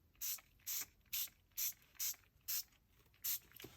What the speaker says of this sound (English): I also have some of this mica spray.